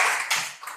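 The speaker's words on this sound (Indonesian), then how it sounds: "Tepuk tangan dulu." Brief burst of classroom applause during a physics lesson, dense clapping from students that fades within a second, heard alone without talk.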